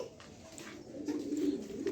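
Loft pigeons coo softly and low in a quiet space, a few muffled throaty calls rolling one into the next.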